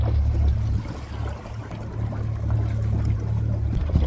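Small boat outboard motor running on the water during a maiden voyage, a steady low drone with a brief dip partway through as the throttle cuts out, then resumes steadily.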